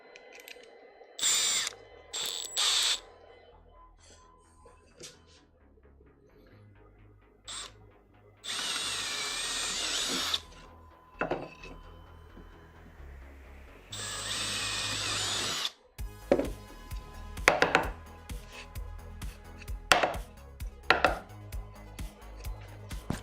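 A power drill with a 5.16 mm bit whirs in a few short, separate bursts during a DIY CNC machine build, amid quiet clicks and ratcheting handling noises, with pauses between each run.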